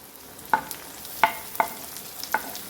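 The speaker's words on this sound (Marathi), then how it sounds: "म्हणजे कांद्याबरोबर टमाटा पण छान परतल्या जाईल" Tomatoes and onions being stirred in a pan while they sauté for a gavar (cluster bean) vegetable dish: four sharp spoon-against-pan clinks at regular intervals over a soft, low sizzle, with no talking.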